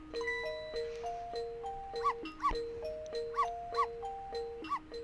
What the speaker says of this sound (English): We have to get Missile to bark.